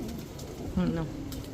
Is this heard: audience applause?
no